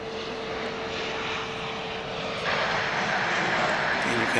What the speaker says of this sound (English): So that American flight is on its way to Santa Ana, California, the one in the foreground.